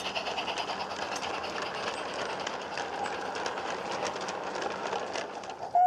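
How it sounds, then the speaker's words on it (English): A Black Hawthorn steam locomotive, number 14, hauls an empty sand train through Beeston Castle Station on the Peckforton Light Railway, a steady dense rumble and rattle of wagons rolling past, continuous and fairly near, with a brief sharper sound at the very end. "a down empty sand train hauled by Black Hawthorn loco number 14 Burwardsley passes"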